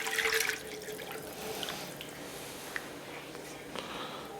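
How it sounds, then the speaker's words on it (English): Milk poured into a roux in a pot for creamed spinach gives a soft, steady liquid wash, with a brighter splash at the start and faint drips and clinks after. "I think I'm gonna add my milk now."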